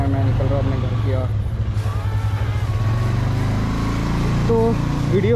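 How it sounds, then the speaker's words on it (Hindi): Royal Enfield Meteor 350 single-cylinder motorcycle riding along a college road past a fish market, a steady loud engine drone with wind rush and shifting pitch, no talk over it. "अपने बाइक में मैं निकल रहा हूँ अपने घर की ओर।"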